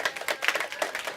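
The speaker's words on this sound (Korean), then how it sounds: "박수 안 치나요?" An audience at a science lecture claps briefly, a short, moderately quiet patter of several hands in a quick, uneven rhythm.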